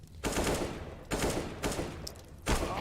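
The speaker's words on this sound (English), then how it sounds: "great shot there by Alton" Gunfire in Counter-Strike: Global Offensive during a competitive esports match: several loud, dense bursts of shots, each sustained and cut off sharply, arrive at uneven intervals with no pause between them.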